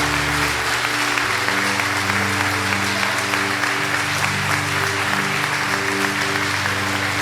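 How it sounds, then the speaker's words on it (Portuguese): A church audience applauds steadily throughout, dense clapping over a sustained low musical drone, with no speech. "Aplaude, aplaude para valer."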